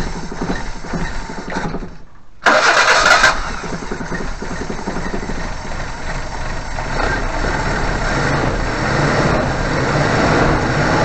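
A Suzuki Vitara with a fuel-pump problem fires up after brief cranking, then its engine settles into a loud, steady close-up idle with a faint rising rumble.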